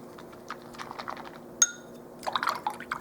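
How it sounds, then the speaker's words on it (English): Water sloshes and drips quietly as a paint brush is swished in soapy water in a container, with a single sharp clink of glass partway through. "Let's get it rinsed off with some soapy water."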